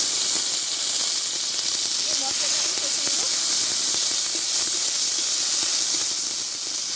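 Dried red chili, whole cumin and a ground paste of ginger, green chili and onion sizzle steadily in hot oil for a village-style fish and cauliflower curry, a dense continuous hiss with faint crackles, close and without talk.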